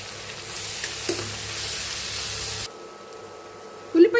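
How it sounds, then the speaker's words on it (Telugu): Sliced onions fry with salt in a pan for an Indian egg masala curry, a steady close sizzle that cuts off partway, leaving quieter frying before a short stir or clatter near the end. "రెండు ఉల్లిపాయలు ఉల్లిపాయ తొందరగా వేగిపోవటానికి సాల్ట్ వేసేద్దాం"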